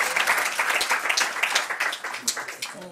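Audience applause at a 2011 forum debate on seniors at work, dense steady clapping for a departing speaker, with a few voices rising through it near the end.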